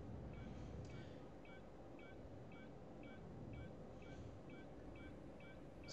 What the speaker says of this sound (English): So you hear that beeping, that's our probe.